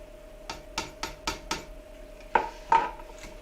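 Shredded cheddar cheese being stirred into a cooking pot with a utensil, giving a run of about five evenly spaced clinks and scrapes against the pot, then two louder knocks, close and clear with no talking.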